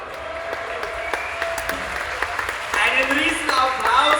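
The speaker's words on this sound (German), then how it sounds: "Einen riesen Applaus für unsere Stanzensänger" An audience claps for Gstanzl folk singers at a Pentecost festival in Kötzting, Bavaria. Scattered claps swell into fuller, louder applause partway through, while someone talks over them.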